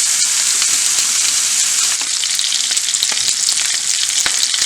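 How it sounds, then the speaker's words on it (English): Oxtails brown in a hot pan with a loud, steady, close sizzle and crackle of frying fat that runs throughout without a break. "I don't know if you can hear that sizzle, but it sounds good. We got our oxtails browned off here."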